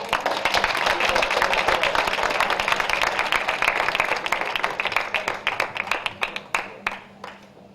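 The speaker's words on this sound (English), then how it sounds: "Give a round of applause." Audience applause at a youth panel, a dense burst of many hands clapping that fills the room, then thins into scattered individual claps as it dies away near the end.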